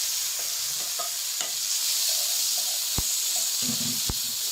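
Carrots fry in oil left over from browned meat, giving a steady loud sizzle with a few sharp clicks from a utensil against the pan.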